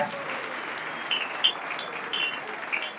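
Crowd applause at the Kayak Surf Worlds closing ceremony in Argentina, a steady, fairly soft patter of many hands clapping throughout, with a few sharper claps standing out.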